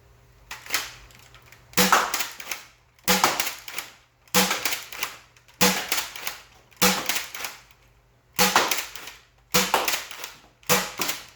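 A Nerf Gameface Prime blaster firing darts, a series of about nine sharp snapping shots spaced roughly a second apart, each followed by a brief mechanical rattle, close and loud with no talking.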